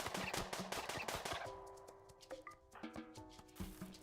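Rapid bursts of gunfire from the RimWorld video game crackle in quick succession, followed by sparser single shots over a faint musical backdrop, fairly quiet overall with no talk.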